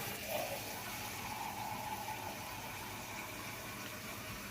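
Tap water gushes steadily into a cup in a home kitchen, a continuous moderately loud pour with a faint tonal hum, lasting several seconds with no speech.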